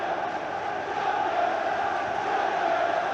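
Football crowd roaring at Old Trafford during a Premier League match between Manchester United and Charlton Athletic, a steady, dense wall of noise that holds loud and unbroken throughout.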